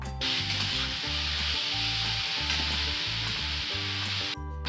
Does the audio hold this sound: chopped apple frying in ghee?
yes